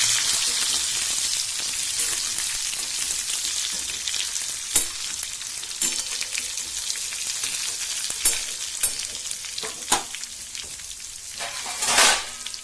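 Stuffed ridge gourd pieces frying in hot oil seasoned with mustard seeds and cumin, a steady close sizzle with scattered pops and the occasional scrape of turning, ending in a louder burst.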